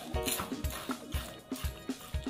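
Crispy deep-fried seasoned fish scales being chewed right at the mouth, a quick run of rhythmic, close crunches repeating several times in under three seconds.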